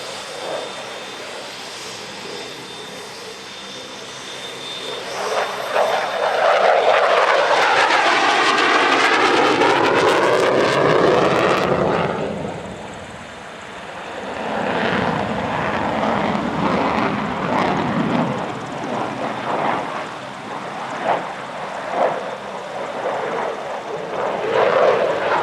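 A loud aerobatic aircraft engine roars through a tight high-G 360-degree turn at the Radom Airshow, its pitch sweeping up and down as the plane passes close, then fading and returning at a steadier drone.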